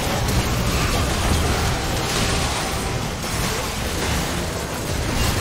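A dense, continuous roar of noise and booming from a League of Legends match, with the heavy blast of a cannon shot and explosion effects sustained throughout, loud and without speech.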